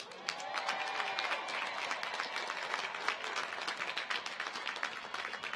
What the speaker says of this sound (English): Let's give these honors graduates a well-deserved round of applause.